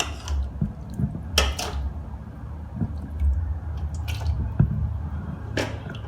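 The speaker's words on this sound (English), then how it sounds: "Half of the curry we put to the bottom of the pan, and gravy also." Curry and gravy spooned into the bottom of a pan for string hopper biryani, soft wet squishes and drips broken by several sharp clinks of a metal spoon against the pan, close and sporadic.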